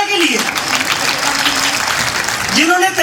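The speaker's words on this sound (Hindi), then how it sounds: "एक जोरदार ताली होनी चाहिए" A crowd at an International Women's Day speech event claps loudly and continuously for a few seconds, dense applause filling the space with no voices standing out.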